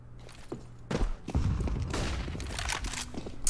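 Counter-Strike gunfire on the Mirage map in a professional match between Vitality and Mousesports, a quick rattle of several muffled shots and thuds, moderately loud amid game ambience.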